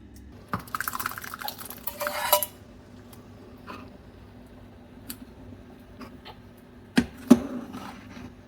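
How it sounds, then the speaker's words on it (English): Cooked tur dal being mashed in a pot for a thick South Indian sambhar: a cluster of scraping, clinking strokes early on, then a few sparse knocks and taps against the vessel, with no talking. "So I'm just kind of mashing it, not too smoothly, just a little bit, so we can still see a bits of the cooked tur dal."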